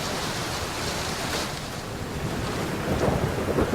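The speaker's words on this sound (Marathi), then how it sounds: "नालासोपारा परिसरामध्ये मुसळधार पाऊस" Heavy monsoon rain pours down in Nalasopara as a dense, unbroken roar of hiss, loud and steady throughout, swelling slightly toward the end, with no voices.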